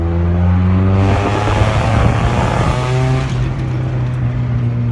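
A straight-piped Honda Accord exhaust revs loud and close, a deep throaty roar that swells and holds for several seconds before easing slightly.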